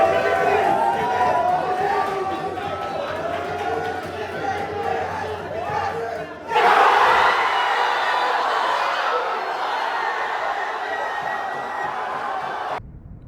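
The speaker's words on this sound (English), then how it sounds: "I caught the reaction of the crowd" A football crowd reacting to Arsenal missing the last penalty kick, a dense roar of chatter and shouting that swells suddenly midway, then holds steady before cutting off.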